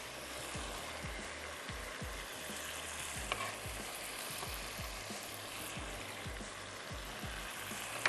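Cauliflower florets and chopped onion frying in a pot, a dense, even sizzle and hiss running throughout with faint low knocks of stirring underneath, fairly quiet and with no voices.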